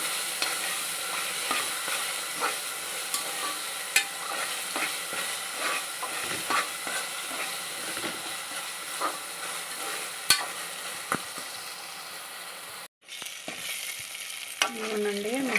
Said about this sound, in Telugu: వేసి బాగా కలుపుకుంటూ వాడుకోవాలండి మాడకుండా చూసుకోండి పచ్చి వాసన పోయే వరకు వేపాలి